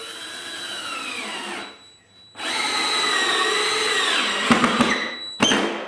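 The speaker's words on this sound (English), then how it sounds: "I'm just putting one screw in it so the glue" A power drill drives a single screw into wood while gluing up a printer stand, whining in two sustained bursts separated by a short pause, then ending with a few sharp clacks as the bit releases.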